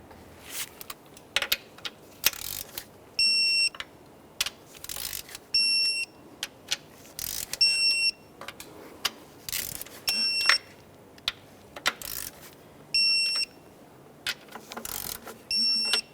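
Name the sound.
torque wrench tightening ignition coil bolts on Nissan Maxima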